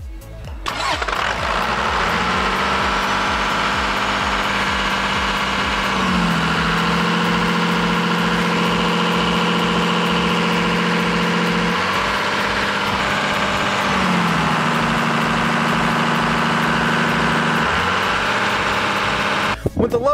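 A large Cummins diesel engine with a P7100 injection pump starts and settles into a steady, loud rumbling run, its pitch shifting down and back up a couple of times.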